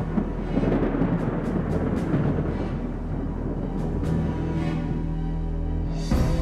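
Deep, continuous rolling thunder rumbles steadily, with a dense low roar and occasional sharper cracks, like a storm close by.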